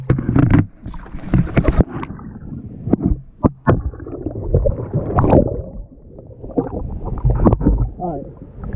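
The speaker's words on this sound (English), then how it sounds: "Let me flip this boat back over again and I'll show you." An Old Town Topwater 120 PDL pedal kayak is rolled over in water, with sloshing splashes, hollow plastic thumps and knocks close to the microphone, while someone talks intermittently throughout.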